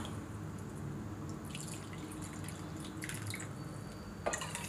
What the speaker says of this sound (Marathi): तर आता आपण ह्याच्यामध्ये पाणी घालणार आहोत